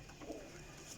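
Domestic pigeons at a pigeon seller's point coo softly in a short, faint burst of low throaty murmurs against steady background hiss.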